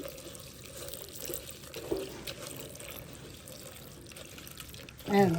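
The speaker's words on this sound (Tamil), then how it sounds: "ஒருக்கா நல்லா தேய்ச்சி கழுவுனீங்கன்னா இந்த மண்கள் ஏதாவது ஒட்டி இருந்தால் போயிடும்" Steady running water flows while something is scrubbed to rinse off clinging soil, a continuous close hiss with small splashes and a brief louder clatter at the end.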